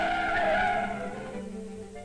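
A car braking hard to a stop from about 25 miles an hour, tires skidding and squealing loudly, then fading over two seconds.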